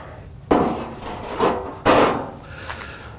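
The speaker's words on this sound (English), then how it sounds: "I'm going to lift my grill grate off." A metal grill grate scrapes and rubs as it is lifted off a Kamado Joe Jr ceramic grill, two or three short, close, rasping bursts without speech.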